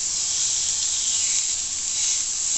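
Spinach-and-cheese-stuffed chicken breasts sizzle on a grill in a continuous, even, fairly loud hiss with no voices.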